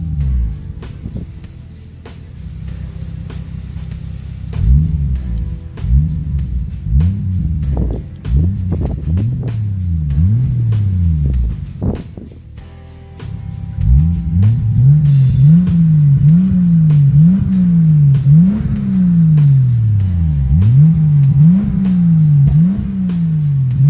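Toyota Supra engine idling then revving repeatedly in a steady rhythm of rising and falling blips, close and loud, with wind buffeting the microphone.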